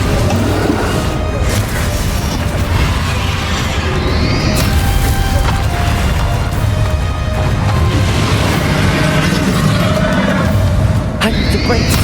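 A Confringo blasting spell explodes in the Hogwarts Legacy video game, heard as loud, dense rumbling blasts and crashes over constant game noise and music, with a few sharp impacts.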